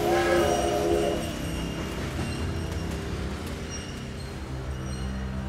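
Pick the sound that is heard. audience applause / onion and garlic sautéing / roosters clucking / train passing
train passing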